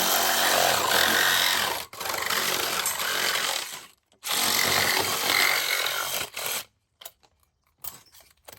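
A power saw fitted with a metal blade cuts through a length of post, a loud, harsh, continuous whine broken by brief pauses, then trailing off into short bursts and silence near the end.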